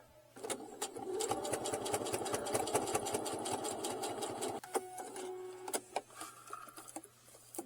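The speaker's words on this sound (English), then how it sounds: "I'm going to continue sewing all the way around, top stitching this flap" Sewing machine topstitching around the flap of a zippered wallet, a fast rattling run of stitches for about four seconds, then a few short bursts and clicks up close.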